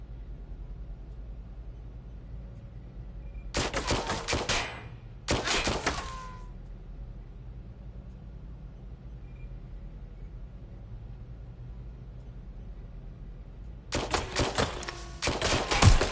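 Loud bursts of machine-gun and rifle fire in the video game Watch Dogs Legion, in two close volleys and then a later one, separated by a quiet background.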